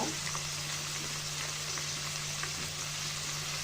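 Raw onions frying in a pan for a chicken roast, a steady, even sizzle with faint crackles and no voice.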